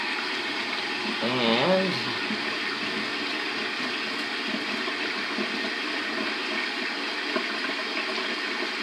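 Water runs steadily from a tap for rinsing the face, a continuous even hiss filling the whole stretch, with a brief voice near the start.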